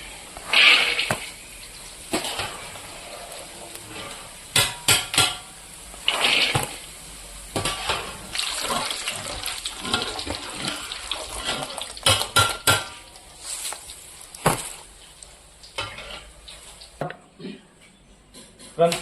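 Spoon scrapes and clinks against a pan while cooked masala peanuts are scooped out, a steady run of metallic clatter and scraping with a few louder knocks and brief quieter gaps.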